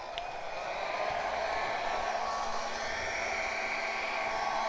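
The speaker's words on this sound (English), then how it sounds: "I've got my little travel blow dryer here that I'm going to be using" A small travel blow dryer runs steadily and close by, with a constant airy whoosh and hum, used for drying paint.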